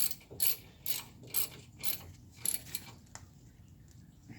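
Ratchet wrench clicking while rear suspension bolts are tightened on a 2004 Nissan Armada: bursts of rapid ratcheting clicks in a steady rhythm, close up, tapering into a few lighter clicks with no talking.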